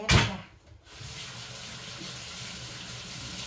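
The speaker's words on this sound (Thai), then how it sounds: "ล้างมือแป๊บจ้ะ" Hands are washed under a running kitchen tap during home cooking. A sharp splash opens, then water pours steadily and softly at close range with no talking.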